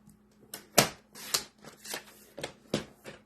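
Paper being cut for a Stampin' Up! Paper Pumpkin card craft, a few sharp crisp snips and rustles spaced unevenly across a quiet room, close and fairly loud.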